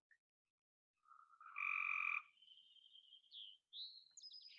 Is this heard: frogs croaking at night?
yes